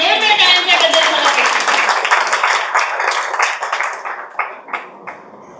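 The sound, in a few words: audience applause at a movie music launch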